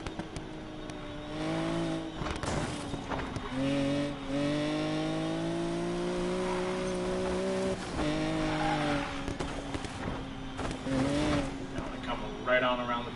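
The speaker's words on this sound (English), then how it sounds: "turbo sound effects." Engine roar of a race car in a video game, with rising turbo whine and rev changes throughout, tire-squeal-like tones, and someone talking over it.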